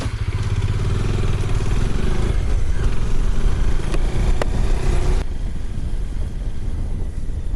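A motorcycle engine drones steadily while riding on a solo trip toward Ladakh over the Namikla Pass, a continuous loud low hum with wind rush and occasional clatter, and no speech over it.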